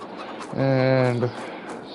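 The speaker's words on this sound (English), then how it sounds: "These are my sheep." A single sheep bleats in a farming video game, one loud, steady, harmonic call lasting under a second.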